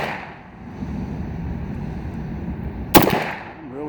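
A single sharp crack from a Norinco Tokarev TT33 pistol firing 7.62x25 ammunition cuts through steady outdoor background noise, followed by a brief ringing decay.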